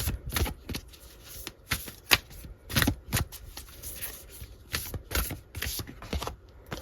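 Tarot cards being shuffled by hand before a card is pulled: a close, crisp run of riffling flicks and soft slaps in an uneven rhythm, with no talking.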